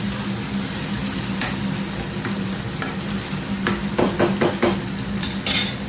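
Tomatoes fry with ridge gourd in an oiled pan, a steady close sizzle with a few scraping stirs and spoon clinks near the end.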